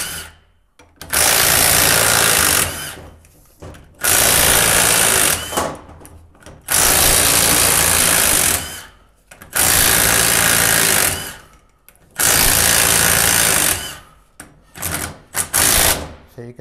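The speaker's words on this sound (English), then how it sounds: "You take that ring gear off real quick." A power tool, likely an impact wrench, removes the ring gear bolts from a Ford 8.8 differential in four long, loud buzzing bursts separated by short pauses, ending with a few brief stuttering hits.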